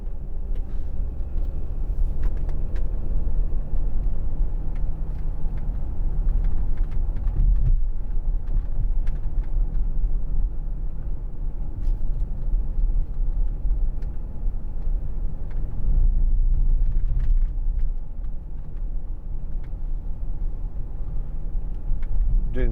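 Cabin of a 2010 Audi Q7 3.0 TDI S line Tiptronic Quattro at 30 mph, a low steady road and engine rumble with faint tyre noise and occasional soft knocks, quiet and even, with no talking.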